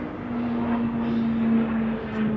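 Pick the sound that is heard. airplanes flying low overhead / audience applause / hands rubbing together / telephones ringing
airplanes flying low overhead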